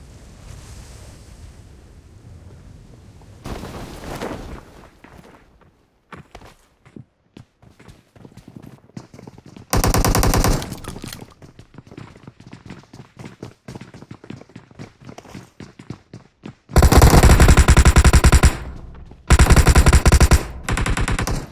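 Gunfire in a video game shooter: long, loud bursts of rapid automatic fire alternating with sparse single shots and quieter gaps, close and dominant, with no talk.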